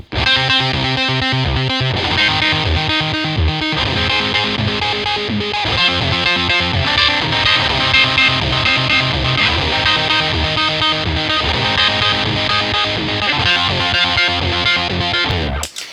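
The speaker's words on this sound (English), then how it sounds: "this is the time when we go over to the overdrive distortion" An electric guitar plays loud, heavily overdriven chords and riffs, thick and sustained, with no talking over it.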